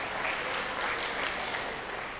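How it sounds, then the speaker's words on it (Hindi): Dense, continuous audience applause at a ghazal mehfil, a thick even roar of many hands clapping together, loud and sustained without pauses. "इनके लिए तालियां बजा दे ताकि ये जाग जाए"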